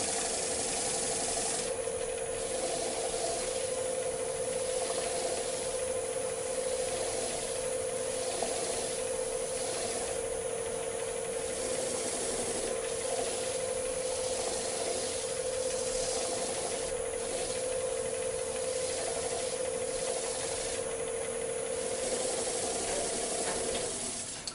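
Steady rubbing of a towel against a spinning wooden crotch bowl on a lathe to wipe off finishing residue, a continuous close whooshing friction over the constant hum of the running lathe motor.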